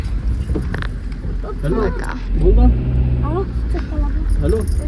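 Passenger ride in an auto rickshaw, with a steady low engine and road rumble and wind buffeting throughout, rising slightly midway, while people talk over the noise.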